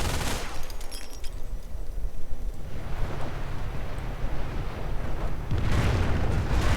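Calliope rocket explosions in a World War II strategy game: rumbling blasts and rapid bursting impacts, loud and dense, swell at the start, keep going underneath, and surge again at the end.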